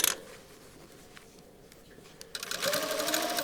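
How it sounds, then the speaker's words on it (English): A sewing machine stitches a cuff onto a shirt sleeve in short close bursts, with a quiet pause between runs before the motor speeds up again. "we are going to stitch or attach the cuff onto the sleeve"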